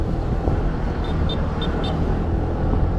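A motorbike rides along a road, its steady engine and wind roar filling the clip continuously with a few faint high chirps partway through.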